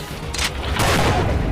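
Sniper rifle headshots in a mobile shooting game, two sharp booming shots in quick succession, the second followed by a sustained rumbling tail, no speech.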